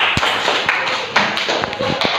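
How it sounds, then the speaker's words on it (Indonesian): Classroom audience claps for a student group after a reading, a short burst of uneven hand claps with sharp irregular taps, fairly close and without talk. "Tepuk tangan."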